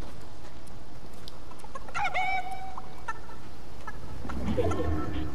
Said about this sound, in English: I have a chicken in my hand, it's gray.